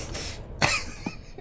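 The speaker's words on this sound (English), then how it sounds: "The coughing begins again." A person coughs in a quiet room during an interactive psychological thriller scene, with a short hoarse burst followed by a couple of softer throat-clearing coughs nearby.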